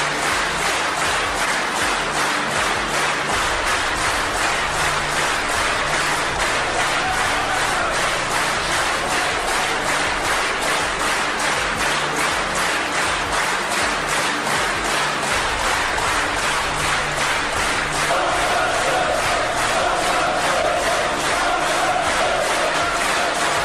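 A large crowd in an assembly hall applauds the act restoring Georgia's independence. The clapping is loud, sustained and rhythmic, in unison beats that run on without a break.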